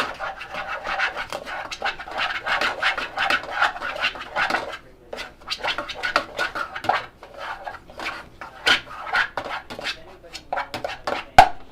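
Curry powder stirred into a pan of curry sauce: a steady series of quick scraping and rubbing strokes against the pan, close and moderately loud, with a brief lull midway and no talking.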